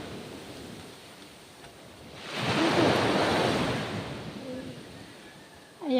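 Sea waves at the beach in Bagac, Bataan swell into a broad, loud rushing crash in the middle, then ebb back to a steady surf wash, with a voice briefly heard.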